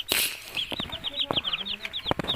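Hens cluck softly and close by under a busy stream of rapid, high peeps from newly hatched chicks, with some scuffling and fluttering.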